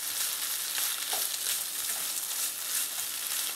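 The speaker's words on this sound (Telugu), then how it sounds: "ఇది కాకపోతే ఇలా వేయించుకున్నాము." Drumstick pieces frying in masala, a dense, hissing sizzle that holds steady and close throughout with faint bursts of spatter and no voices.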